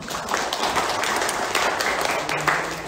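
Participants at a calligraphy workshop give a dense, steady round of applause that holds at an even level throughout, close and continuous.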